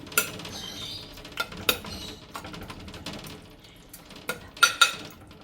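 A lid is set on a clay cooking pot of small fish curry, giving a few sharp clinks and clatters spread over several seconds, the last ones close together, over a faint background.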